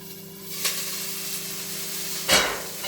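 Onions fry in a pan with a steady soft sizzle, broken by two sharp scraping stirs, close and moderately quiet, with no talking.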